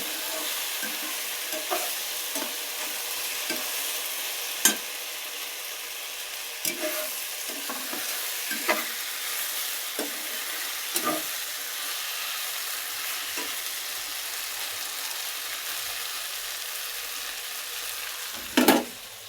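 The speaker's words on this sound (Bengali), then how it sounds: "এখানে আজকে ঢেঁড়স ভাজি করা হচ্ছে।" Okra (ladies' finger) fries in a pan with a steady, moderate sizzle, while a spatula stirs it with scattered scraping strokes and a sharper clack near the end. No voices are heard.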